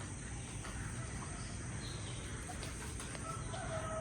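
Chickens cluck and a rooster crows in the distance over a steady background hiss, with crickets chirping faintly throughout.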